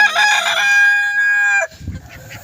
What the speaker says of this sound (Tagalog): Tatlong native chicken